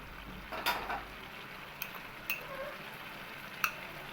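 Bottle gourd and shrimp curry being stirred in a pan: soft, quiet scrapes and a few sharp spoon taps against the metal over a faint simmering background.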